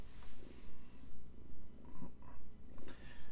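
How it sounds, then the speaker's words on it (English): A kitten purring close by, a soft rhythmic rumble swelling and fading with each breath, about seven cycles, quiet and alone with no talking. "There's a kitten right here."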